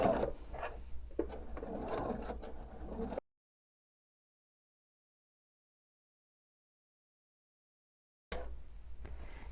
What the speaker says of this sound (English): sew my scant 1/4 inch seam